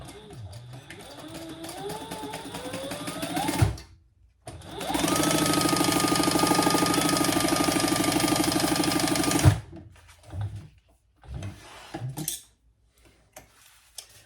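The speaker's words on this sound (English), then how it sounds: "just stitch across the top, 1/8 of an inch" A domestic sewing machine runs in one steady, even burst of rapid stitching across the top of lightweight bag fabric, preceded by quieter handling noises and followed by a few short clicks and taps.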